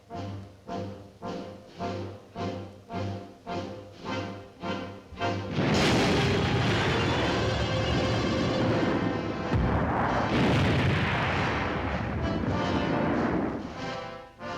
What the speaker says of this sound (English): All of us wait for the simulated atomic explosion, which will signal the beginning of the day's advance.